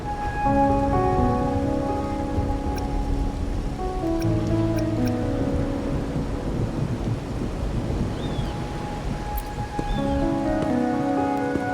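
Steady, dense rainfall in the Wuthering Waves city of Raguna, played on PS5, drums on surfaces without a break, with soft sustained musical tones underneath.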